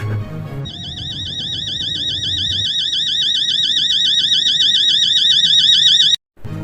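An electronic alarm in the horror game Fear To Fathom: Home Alone rings loud and continuous, a warbling high tone that starts abruptly after a moment of low background noise, then cuts out sharply near the end.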